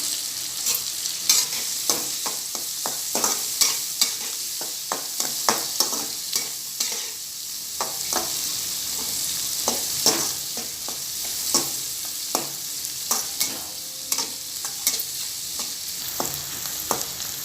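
Sliced large onions and curry leaves frying in an oiled pan, a steady hiss of sizzling broken by regular clicking, scraping stirs, close and clear, with nobody speaking.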